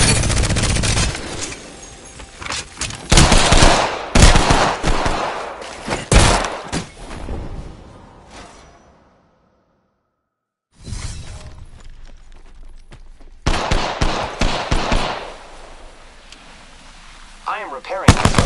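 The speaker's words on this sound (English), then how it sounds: "They spotted me. I'm taking shots." Heavy video game gunfire aimed at the player, with dense bursts of loud booming shots and rattling impacts, a short silent gap, then another barrage of blasts.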